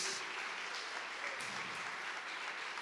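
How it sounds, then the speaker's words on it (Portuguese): A church congregation at a Sunday family service claps hands steadily and loudly, a dense continuous wash of clapping that fills the room with no clear pauses. "Mais forte, irmãos, as palmas são para Jesus."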